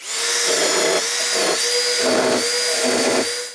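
Power sander working on the floor lip of a Triumph TR4 during new passenger floor preparation: a loud, continuous high-pitched whine with several short bursts of heavier grinding as the pad meets the metal.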